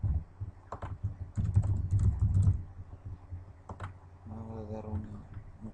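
Someone types a password on a computer keyboard in quick, uneven bursts of key clicks, close by, with a short gap and a faint murmur toward the end.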